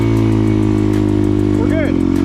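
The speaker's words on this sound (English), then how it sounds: "So if I rev it really high, slowly release the clutch" Motorcycle engine held at high revs as the clutch is slowly released, a loud steady drone with a rider talking over it.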